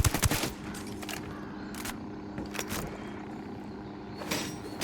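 Gunfire in the video game Ghost Recon Wildlands: loud rapid bursts of automatic shots at the start, then scattered volleys and single reports over a constant rumbling backdrop, with no voices.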